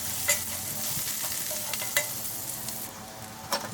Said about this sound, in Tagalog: Ayan, magisa tayo ng garlic. And then, onions.